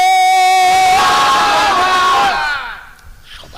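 A large crowd at a Bengali religious gathering chants 'Subhan' loudly in unison, one sustained, strained group shout lasting about two seconds before it breaks off and fades into quieter hall noise.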